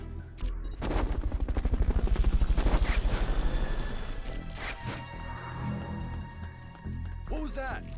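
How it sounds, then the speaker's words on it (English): The Fulton recovery helicopter in Metal Gear Solid Peace Walker on PS5 beats with a rapid, loud rotor thumping that swells over the first seconds. It then fades into dense game sound, music and voices. "Fulton recovery helicopter is complete"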